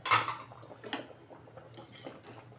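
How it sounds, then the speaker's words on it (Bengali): A lid comes off a cooking pot of khichuri with a sharp metallic clank at the start, followed by a few lighter clatters and faint bubbling, close up with no voices. "ঢাকনাটা তুলে দিচ্ছি।"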